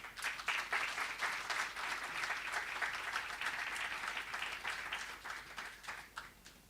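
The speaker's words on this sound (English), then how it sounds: "Let's give Mapifo a round of applause again, ladies and gentlemen." A meeting audience at an annual general meeting gives a sustained round of applause, a dense, even patter of many hands clapping at moderate distance that tapers off near the end.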